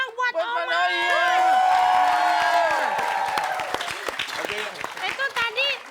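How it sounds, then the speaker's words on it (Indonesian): A studio audience at a comedy show claps and cheers for Oma, the applause running under loud overlapping talk and laughter, with bursts of clapping continuing as voices fade. "Tepuk tangan dulu dong buat Oma"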